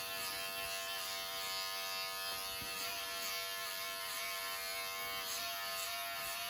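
Electric hair clippers buzzing steadily while cutting a boy's hair at home, a continuous close, even hum with faint variations as the blade moves through the hair.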